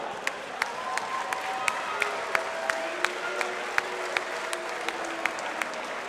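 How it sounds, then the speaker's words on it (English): Crowd applause at a WFS 4 fight night in London after a knockout bout, a steady wash of clapping with scattered sharp claps and faint cheers carrying through the hall. "Ladies and gentlemen, round of applause for both fighters this evening."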